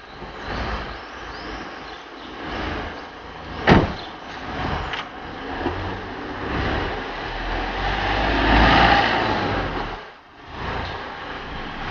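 A car pulls out of a perpendicular parking space, heard as a steady engine and road rumble that swells and fades, with a sharp click partway through.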